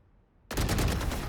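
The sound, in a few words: gunfire in a video game deathmatch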